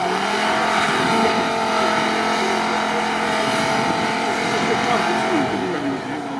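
A Lada Niva off-road racing car with a 2.1-litre engine at an off-road competition, revving hard and droning loudly and steadily throughout while people talk nearby.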